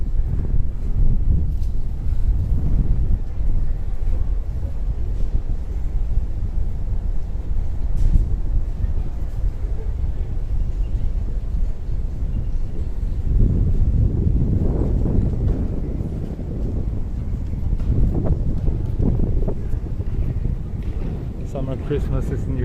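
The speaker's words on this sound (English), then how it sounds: "Ooh, super windy." Strong wind buffets the microphone on a city street walk in Tokyo, heavy low rumbling gusts that swell and ease in waves, with a person talking intermittently over it.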